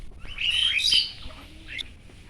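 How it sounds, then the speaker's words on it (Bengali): Birds perched in a jackfruit tree in a village chirp in quick, bright bursts, first a busy cluster of tweets and then a shorter call near the end, close and clear over quiet surroundings. "আর পাখিগুলো দেখেন কিচিরমিচির করছে"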